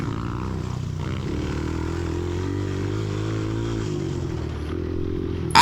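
Dirt bike ridden along a cross-country trail course, its engine droning steadily and close throughout with a sustained low buzzing tone, slight shifts in pitch, no talking.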